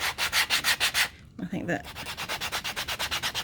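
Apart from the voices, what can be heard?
sanding block rubbing down the edge of a knife sheath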